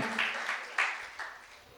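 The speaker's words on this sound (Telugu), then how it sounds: "చప్పట్లు కొట్టి దేవుని మహిమ పరుద్దామా?" A congregation clapping to glorify God during a fasting prayer service at a church: a short burst of scattered hand claps, moderately loud, with a faint voice underneath.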